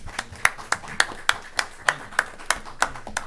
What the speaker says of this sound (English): let's give this board a round of applause for pulling this off.